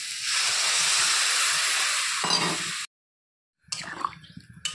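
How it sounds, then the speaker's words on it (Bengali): Broth poured into a pan of fried lafa greens bursts into a loud, sustained hiss for nearly three seconds and cuts off sharply, followed after a short silence by softer bubbling and clinking close by. "তো এখন আমি দিয়ে দিব ঝোল।"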